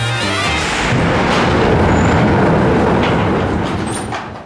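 Space Mountain roller coaster train at Disneyland Paris rumbling loudly along its track, a steady close roar of wheels and rattle that swells and holds before easing slightly, with no talk.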